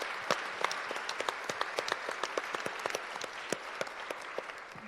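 Sparse, scattered handclaps from a small audience applauding a panel at a debate on the pharmaceutical sector, with individual claps distinct and fairly quiet in a steady, uneven patter.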